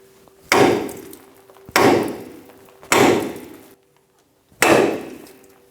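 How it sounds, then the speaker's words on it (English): A hammer striking the upper ball joint stud on a 2000-2006 Toyota Tundra front suspension: four loud, close metallic blows, each ringing out for about a second, with a longer pause before the last. "We're going to hit right here with a hammer and try and shock it and make it pop up."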